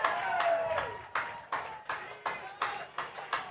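A football crowd at a high school game, Bristow at Chandler, claps in unison with roughly eight sharp, evenly spaced rhythmic claps following an opening burst of mixed noise, heard from a moderate distance.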